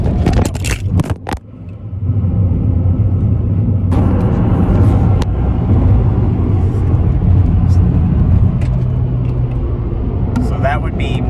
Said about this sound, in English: so that would be me enjoying the new car a little bit too much